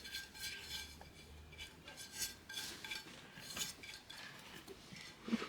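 A utensil scrapes and clinks in a bowl while tigernut cookie dough is stirred with monk fruit sweetener, zest and rosemary, giving soft, irregular, close strokes without talk.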